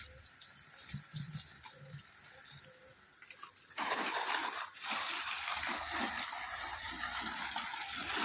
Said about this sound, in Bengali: এটা হচ্ছে ডিস্টিডিয়া, যেটা জল দিচ্ছি এখন।